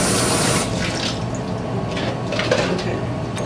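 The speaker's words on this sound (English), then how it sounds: "I'm just washing it a little bit." Tap water runs steadily over a red onion being rinsed at a sink, a continuous close rush with some light splashing and clinks.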